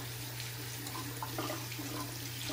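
Cold water runs steadily from a bathroom tap into a sink, a constant close hiss with a low hum beneath it and no talking.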